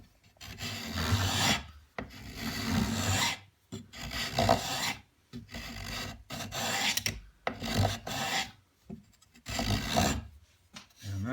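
A spokeshave takes a thicker shaving off a piece of wood in repeated rasping strokes, each a coarse scraping pass of a second or two separated by short pauses, close and steady with no talking.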